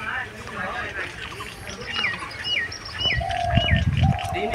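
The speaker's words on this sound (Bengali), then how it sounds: "ঘুঘু পাখির ডাক শুনতে পাচ্ছেন কিনা জানি না" A dove calls outdoors among flowering trees, soft cooing notes mixed with other chirping birds, fairly faint behind a person talking nearby and some rustling.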